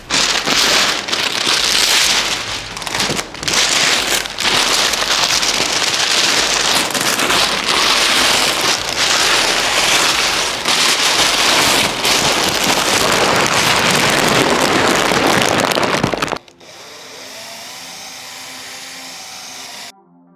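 A power buffer polishes spots on a car's painted finish, a loud, close, steady whirring roar with brief dips as it is worked, then cutting off to a quieter lingering hum.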